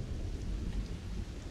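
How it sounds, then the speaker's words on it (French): A thunderstorm in the space video game Starfield, with steady rain hiss and a low continuous rumble of thunder throughout, even and unbroken. "J'adore quand il y a des orages comme ça."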